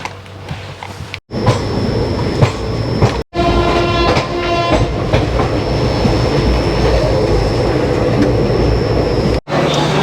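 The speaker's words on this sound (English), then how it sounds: "maybe this is more of the authentic experience of being on a train in India" An Indian train carriage on the Agra to Jaipur route rattles and rumbles steadily along the tracks, loud and close, with a sustained tonal whine and rhythmic clatter throughout.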